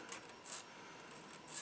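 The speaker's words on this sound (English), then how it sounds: "run the file over it a few times, or a sanding stick, it doesn't matter which" A metal file is scraped over a soldered photo-etched metal part in a few short, faint, high rasping strokes spaced apart, close by and alone.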